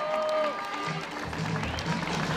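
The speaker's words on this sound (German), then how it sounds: "Riesengroßen Applaus." Spectators applaud at a marathon finish line, a dense layer of clapping heard under a loud announcer's voice over a public address system.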